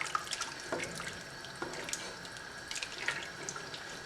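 A cup of water pours into a pot of minestrone soup, a close, gentle splashing trickle with small drips, steady and fairly faint.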